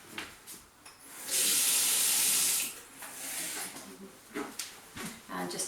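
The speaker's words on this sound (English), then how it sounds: "so I'm just going to get some more cold water." Cold water runs from a kitchen tap for just over a second in a steady hissing burst, set between quieter handling noises while making dumpling dough for a sausage casserole.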